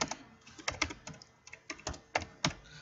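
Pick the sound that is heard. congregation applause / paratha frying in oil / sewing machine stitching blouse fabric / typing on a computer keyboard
typing on a computer keyboard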